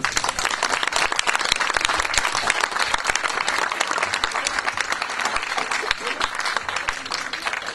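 Steady, dense applause from a concert audience fills the whole stretch, many hands clapping evenly, loud and near, with no clear voices breaking through.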